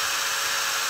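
An angle grinder and a 920-watt drill run together off one power outlet, a loud, close, steady high-pitched whine lasting the whole moment without pause.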